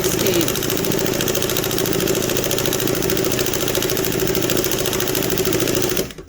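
A chain stitch embroidery machine driven by a Conso servo motor stitches a circle fill below top speed, giving a steady, close mechanical whir with a rapid needle rhythm that holds constant before stopping abruptly at the end.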